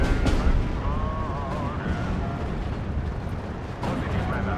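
Artillery firing in the WW2 strategy game Steel Division 2, with heavy booming blasts and rumbling explosions layered under in-game voice radio chatter.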